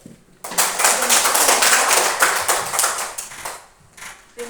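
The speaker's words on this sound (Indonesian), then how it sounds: "Kita beri tepuk tangan buat Ido." Schoolchildren in a classroom clap their hands together after a lesson question, a sudden burst of close, lively clapping that lasts about three seconds and then stops, with a brief quiet lead-in.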